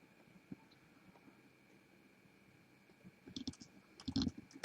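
Computer keyboard typing while entering values in an Excel spreadsheet, sparse soft taps at first, then a quicker cluster of louder keystrokes near the end, close over a faint steady hum.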